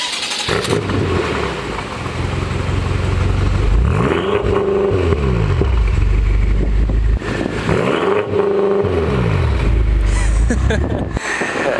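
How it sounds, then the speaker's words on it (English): A stock BMW M6 engine cranks and fires, then settles into a loud rumbling idle with two sharp revs rising and falling, close by. "let's start your stock M6 up"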